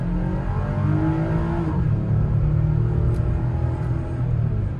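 A Chevy Colorado Z71 pickup accelerates at full throttle, its engine droning loud and close while the pitch climbs, then drops briefly at a gear change and climbs again.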